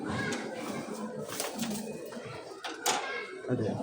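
Pet pigeons cooing in a loft, soft throaty coos repeating over a busy background while a person talks nearby.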